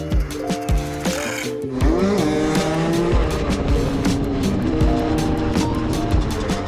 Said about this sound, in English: Here are also some stunts that I've done on my old 50cc bike